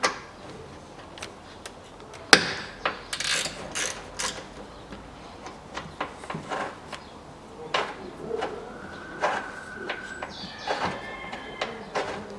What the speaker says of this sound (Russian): Также выкручиваем и нижний болт.